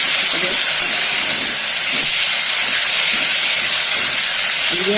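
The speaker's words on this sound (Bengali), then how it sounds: "জল দিয়ে দেবো, জল দিয়ে মশলাটা কষিয়ে নেবো।" Loud, steady sizzling hiss from spice paste cooking with water in a pan for fish curry, continuous throughout with faint stirring underneath.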